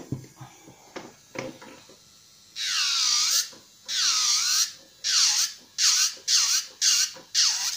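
A high-pitched electric nail drill sanding a nail whines in repeated bursts, first steady then in short pulses, after some soft handling noises.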